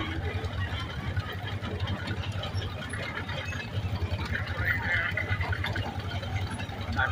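A John Deere FC crawler tractor idles at a 2023 tractor expo, its engine chugging in a steady mechanical rhythm with ratcheting clatter, heard amid outdoor show ambience.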